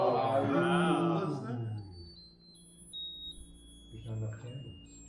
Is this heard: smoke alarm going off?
yes